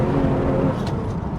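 A BMW 1M Coupe pulls away hard after a clutch dump in second gear, a brief, loud, close engine roar with strong low rumble and no talking.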